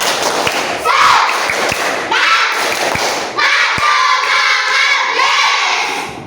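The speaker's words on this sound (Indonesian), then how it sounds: "Biar semangat, tepuk semangat." Classroom group of teacher trainees doing a rhythmic cheer clap, loud claps with sharp thumps and shouted voices, several bursts of patterned clapping mixed with crowd cheering.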